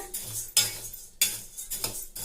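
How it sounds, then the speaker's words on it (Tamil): Toor dal dry-roasting in a pan over medium flame, with dry lentils scraped and tossed by a metal spoon in sharp, rattling strokes that repeat roughly every half second, close and clear with no talk. "மீடியமான ஃப்ளேமில் வச்சு நம்ம துவரம் பருப்பை வறுத்துக்கலாங்க"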